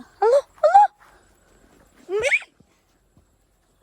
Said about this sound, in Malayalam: ആ ബാക്കിൽ ഇരിക്കുന്ന പട്ടിയുണ്ട്